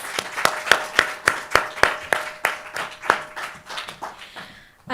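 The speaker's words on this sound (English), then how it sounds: "another round of applause" Audience applause for film directors at a short film Q&A, heard as a small group's scattered hand claps in an uneven rhythm that gradually thins and fades over several seconds.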